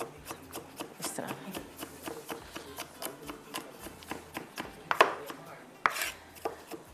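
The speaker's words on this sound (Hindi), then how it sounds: "गार्लिक को चॉप कर लीजिएगा।" Fresh garlic chopped with a knife on a board, a quick steady run of sharp close taps, a couple of louder knocks near the end.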